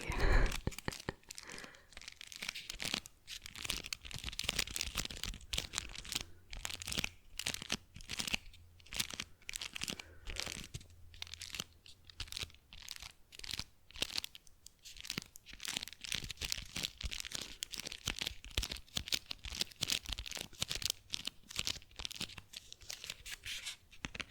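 A chocolate wrapper crinkles and tears up close in a quiet ASMR setting, with continuous soft crunching and rustling throughout.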